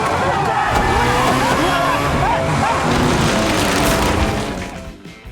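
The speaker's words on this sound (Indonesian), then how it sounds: "Dan tiba-tiba, mobil tadi melaju sendiri dengan brutalnya." A car in a racing setting roars off on its own through a pine forest at high speed, its loud engine revving up and down in a steady stream over music and a talking voice.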